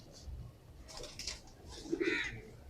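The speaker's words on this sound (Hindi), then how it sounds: "ये कहलाते हैं चटाईदार कबूतर, जले हुए अंबरसरे कबूतर भी" An Amritsari chatai-patterned pigeon gives a few soft, low coos close by over a quiet background, with faint higher chirps nearby.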